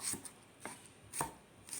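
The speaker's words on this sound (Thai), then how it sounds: "หั่นหอมแดงค่ะ หั่นหยาบๆก็ได้ค่ะ" A knife roughly chops shallots in a home kitchen, making four crisp, evenly spaced strikes close by, with quiet pauses between them and no voices.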